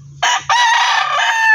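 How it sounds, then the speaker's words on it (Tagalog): A rooster crows loudly at close range in two bursts, the second one long and sustained, with a brief low clucking from chickens before each crow. "Ang dami manok nito guys"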